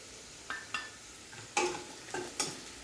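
Onions with turmeric stirred in a pan for kanda poha, quiet low frying under several distinct spoon scrapes and taps, about six in an uneven rhythm.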